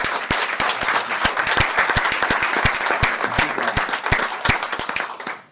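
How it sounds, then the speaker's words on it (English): Applause from a small group at a Board of Supervisors meeting, a lively patter of individual claps with a few heavy near hand strikes, continuing for several seconds before tapering off abruptly. "I think we owe him a round of applause"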